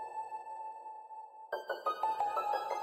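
An Air Plink music box sound effect with reverb, made in FL Studio: a steady sustained tone, then a quick run of bright plinking notes that ring out into an echoing tail, alone and clear.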